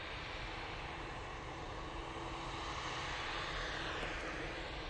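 An Etihad Boeing 787-9 Dreamliner's jet engines at Manchester Airport produce a continuous, even roar with a faint whine, steady and without talk.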